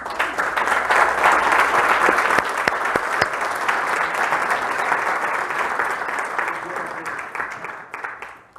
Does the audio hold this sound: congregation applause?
yes